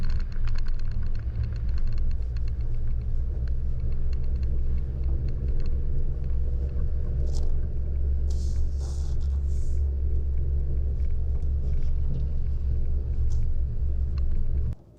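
A Chevy Colorado Trail Boss truck climbs a snowy trail with a steady, deep engine rumble and road noise heard from inside the cab, plus faint clicks and small knocks over the drone.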